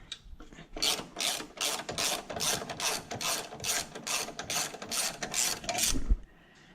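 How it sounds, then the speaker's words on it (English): A hand ratchet undoes 12mm sway bar bracket bolts on a Lexus LS430, giving a fast, close run of about a dozen rasping clicking strokes in even rhythm before it stops. "I'm undoing 2 sway bar mount brackets, just 2 12mm headed bolts on each side."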